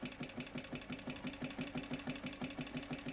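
A motorcycle engine idling in a steady, even pulsing rhythm, close and moderately loud, with no voices.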